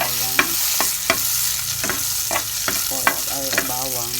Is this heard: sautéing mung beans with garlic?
yes